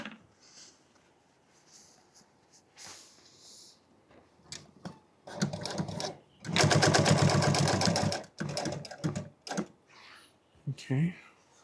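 A sewing machine stitches truck seat upholstery in short bursts, its rapid mechanical chatter running loudest in one sustained run, with pauses, handling clicks and brief talk between.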